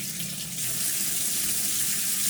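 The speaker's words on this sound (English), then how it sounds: "So I'm gonna go under the sink and turn on the hot water." Hot water runs from a tap under a kitchen sink, feeding a Maytag dishwasher, in a strong, steady rushing stream that grows slightly fuller after the first half second and stays constant, with no voices.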